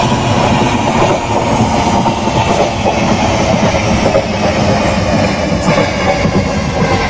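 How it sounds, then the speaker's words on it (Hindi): A simulated Indian Railways express, the Patna–Shalimar AC Duronto in the MSTS Open Rails game, rolls steadily along with a loud, continuous rumble and rhythmic clickety-clack of wheels on rail joints, heard close with no talk. "train approaching towards us"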